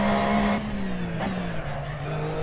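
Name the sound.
race car sliding and tire squeal in Assetto Corsa video game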